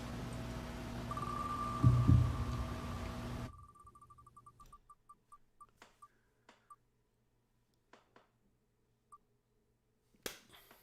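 A selection wheel spins with a run of rapid clicking ticks that slow down and spread out until they stop, after a short stretch of hum, with a final knock near the end.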